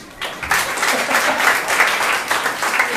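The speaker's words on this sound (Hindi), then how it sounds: "ताली बजाओ ना फिर अभी।" A congregation claps their hands together during a Sunday church service. The applause starts after a brief pause, then stays dense and steady, with many hands overlapping into a continuous roar.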